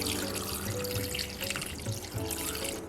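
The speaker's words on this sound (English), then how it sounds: "I'm gonna throw in my water, and I'm gonna fill my pot all the way up" Water pours steadily into a large pot for Jamaican sorrel drink, a continuous close splashing rush with a faintly rising tone as it fills; no talk.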